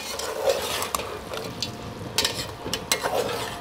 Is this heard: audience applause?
no